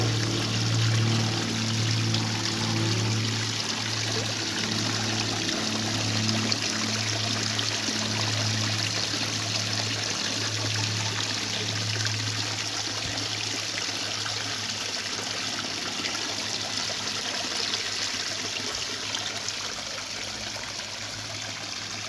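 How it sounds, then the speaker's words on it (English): Water trickles steadily into a garden fish pond, a continuous close splashing and babbling flow with a low steady hum running underneath throughout. "I've actually started to do a little trickle in on my pond."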